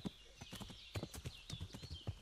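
Quick, rhythmic hoof clip-clops of a horse moving at pace in Kingdom Come: Deliverance, soft and steady with a faint tonal backdrop.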